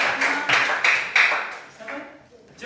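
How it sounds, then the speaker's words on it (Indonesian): A class of students claps in short bursts of applause, fairly close and loud, fading toward the end. "Tepuk tangan."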